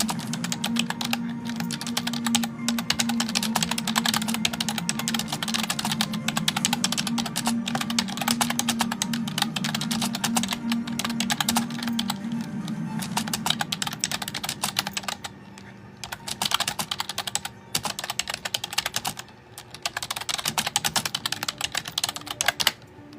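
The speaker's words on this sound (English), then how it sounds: "About the time I get used to typing with these" Steady, fast typing on a computer keyboard, a continuous close clatter of key presses with brief pauses near the end and no speech over it.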